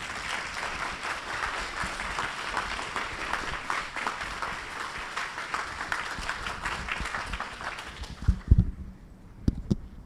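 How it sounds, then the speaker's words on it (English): An audience at an author talk about a Martin Luther King biography breaks into sustained applause, steady dense clapping for about eight seconds before it tapers off into a few scattered claps and quiet. "Let's give our speakers a round of applause."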